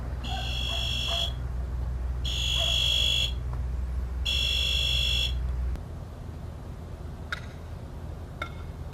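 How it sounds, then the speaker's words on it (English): A harsh electronic evacuation alarm on a firefighter command box buzzes in three long, evenly spaced bursts over a low hum, followed by a few faint short beeps. "It will send him an alarm. That's the alarm he's hearing on his end."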